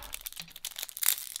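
Magic: The Gathering Ravnica Clue Edition cards being shuffled up close: a quick run of papery riffles and crinkly rustles in uneven bursts, with no talking.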